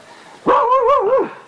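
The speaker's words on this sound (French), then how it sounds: "Ça je m'en doutais que ça allait arriver, c'est mon chien." A single drawn-out dog vocalization, a whiny bark rising and wavering for about a second, close and fairly loud with no other sound around it.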